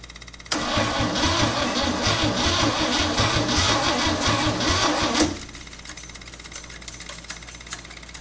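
A 1963 Chevrolet C10 engine, left in a field for 37 years, cranks and catches with an abrupt loud start, then runs with a rough rapid clatter for several seconds before it cuts out abruptly to a faint hum.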